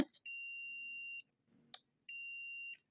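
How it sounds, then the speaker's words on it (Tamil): A multimeter in continuity mode gives two steady, high-pitched electronic buzzer beeps, the first lasting about a second and the second a little shorter, with a faint click between them in an otherwise quiet room. "இந்த மாதிரி ஒரு சவுண்டு, பீப் சவுண்டு வந்துச்சு"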